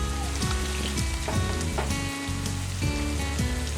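Chopped mushrooms hit a hot pan for a Bengali mushroom butter masala curry, giving a steady, close sizzle with crackling pops throughout, alongside soft clinks and stirring sounds with a short dip midway.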